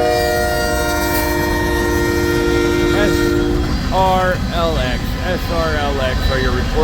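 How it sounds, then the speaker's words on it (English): An empty coal freight drag rolls westbound through Pacific Junction, Iowa, onto the Creston Sub: a loud, steady rumble of passing cars with a sustained horn, then several shorter horn blasts near the end. "Another empty coal drag heading westbound onto the Creston Sub here at Pacific Junction"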